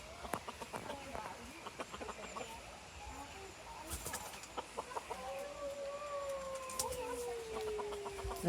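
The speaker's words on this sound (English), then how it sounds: "The chickens are out. Don't they look sweet with the cockerel?" Chickens and a cockerel cluck and call in a garden at Arley Arboretum in Worcestershire, faint and fairly close, with a drawn-out crowing call toward the end.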